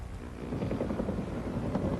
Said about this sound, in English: The choppers put on an air show every day.